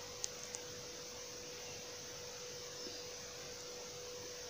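Stuffed bajji battered and dropped into hot oil frying at medium flame, giving a faint, steady broadband hiss with a couple of tiny pops near the start and no voices.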